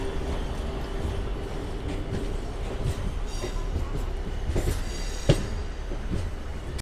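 A MEMU passenger train hauled by a WIP4 electric locomotive rolls along near Kazipet, heard from inside as a steady rumble with occasional clicks and a sharp clack from the rails, no voices.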